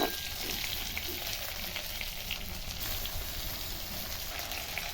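Pieces of pointed gourd (potol) fry in oil in a pan, giving a close, continuous crackling sizzle that stays even throughout with no voices.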